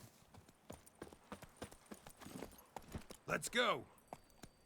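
Video-game hoofbeats of the horse Roach, a steady rhythmic clip-clop at moderate volume, with a brief spoken phrase and a rising, wavering tonal sound near the end.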